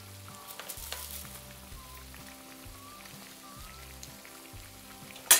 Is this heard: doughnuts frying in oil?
yes